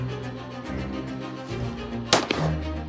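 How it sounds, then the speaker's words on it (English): A single sharp shot from a side-by-side shotgun at clay pairs, one abrupt crack rising over a low background hum, fairly close. "I'm going to shoot 5 pairs with my side by side"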